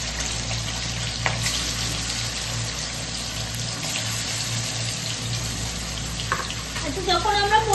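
Paneer pieces fry in white oil in a pan, giving a continuous bubbling sizzle with occasional stirring clatter, while a voice is faintly heard in the background.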